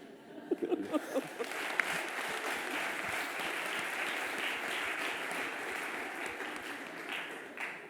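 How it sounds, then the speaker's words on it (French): A conference audience breaks into applause, starting with a few scattered claps and swelling into sustained, even clapping from many people, faint and distant in the room. "Depuis quand à l'IRFD on applaudit des questions?"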